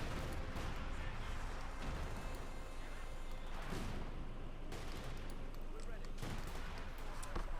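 Rattling bursts of small-arms gunfire echo across a Company of Heroes 2 battle, with repeated volleys and sharp cracks layered over a constant din of combat, with a commentator talking over the action.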